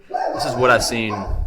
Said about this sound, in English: I don't know if you heard my dog barking in the background there.